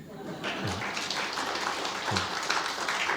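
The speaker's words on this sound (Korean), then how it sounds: "이때는 박수를 한번 쳐주셔야 됩니다." A church congregation claps during a Sunday sermon, producing a continuous moderate wash of applause across the hall, with a voice faintly audible underneath.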